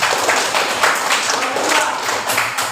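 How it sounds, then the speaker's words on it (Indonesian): Classroom applause for a student group: several people clap in quick, uneven bursts for a few seconds, fairly close and loud, with faint voices mixed in. "tepuk tangan kelompok satu"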